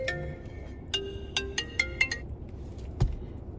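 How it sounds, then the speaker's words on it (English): A phone rings indoors in a series of short, bright electronic tones that come in bursts over a low background hum, ending with a louder knock near the end. "Of course the phone's ringing."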